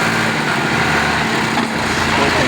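A tractor engine labours hard to pull free of sand, its steady loud roar and drone holding close and constant with a slight surge partway through.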